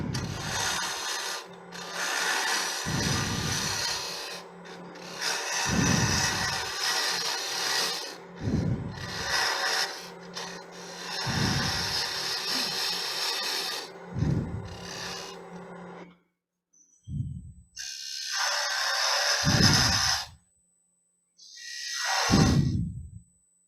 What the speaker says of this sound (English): Now I'm going to make a tenon on this side.